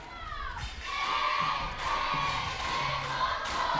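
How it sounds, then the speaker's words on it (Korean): Crowd of supporters from both youth teams clapping and cheering in a stadium before kickoff of an elementary school football match, a steady distant roar of voices and applause. "양팀 응원단 모두 이제 박수를 치면서 경기를 시작하기 앞서 선수들에게 기를 불어넣어 주고"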